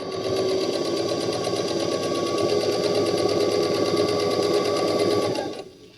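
A sewing machine runs steadily as it stitches fabric strips onto a throw pillow, a fast, even whirring and needle chatter that holds for several seconds before stopping abruptly.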